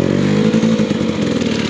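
2023 Beta X Trainer 300 dirt bike engine on a snowy trail, a loud, close, rough two-stroke putter at low throttle with steady rhythmic pulsing.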